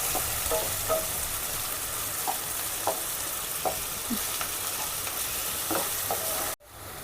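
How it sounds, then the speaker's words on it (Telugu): Onions fry in hot oil in a pan, cooking toward golden for a spicy baby corn and mushroom masala. A steady, close sizzle carries occasional light stirring scrapes, then cuts off briefly near the end. "ఇవి కూడా గోల్డెన్ కలర్ వచ్చినంత వరకు కూడా బాగా వేపుకోవాలి"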